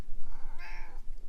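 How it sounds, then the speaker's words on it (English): A pet cat gives a single drawn-out meow, close and fairly loud, rising in the middle of the call before tapering off, with no talking over it. "She's the craziest cat, and she'll just lick you."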